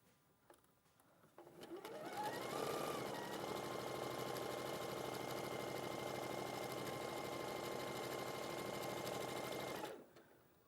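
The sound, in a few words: sewing machine chain piecing quilt pieces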